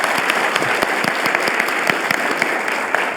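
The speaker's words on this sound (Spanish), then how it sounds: "quiero agradecerles pues con un fuerte aplauso a nuestros panelistas" Applause from a conference audience thanking panelists after an economics and politics discussion, a steady, dense clapping that stays loud throughout.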